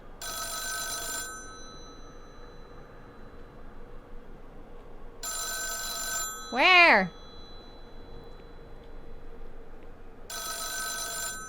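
A telephone rings in the video game The Town of Light, shrill electronic bursts repeating about every five seconds with silence between, while a person speaks and one voice cries out loudly in the middle.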